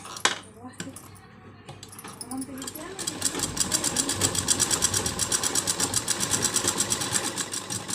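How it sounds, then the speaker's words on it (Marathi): Sewing machine double-stitching tucks on a lined blouse: after a few clatters and handling noises, a fast, even mechanical rattle starts and runs steadily to the end, with a voice talking underneath. "तर ह्या पद्धतीने आपण शिवतो आहे ह्याला डबल शिलाई मारून घ्यायची आपण"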